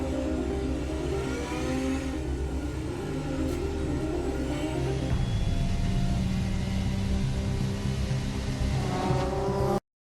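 A Porsche 917 race car engine roars steadily at high revs in a game trailer, loud and close throughout with a slight shift in pitch, then cuts off abruptly at the end.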